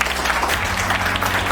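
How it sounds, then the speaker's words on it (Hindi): An audience at a career counselling programme applauds in a short, dense burst of steady clapping that fills the brief moment. "एक बार आप अपने लिए जोरदार ताली"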